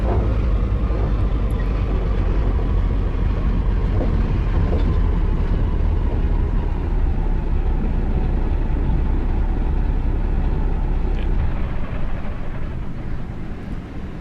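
In the Call of Cthulhu video game, a bus rumbles away with a steady, loud low engine drone that carries evenly and then fades slightly at the end.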